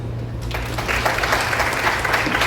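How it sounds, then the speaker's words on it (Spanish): Audience applause at an academic event on water culture and climate services, clapping swelling in after a low hum and continuing steadily, moderately loud. "para quienes pido un fuerte aplauso"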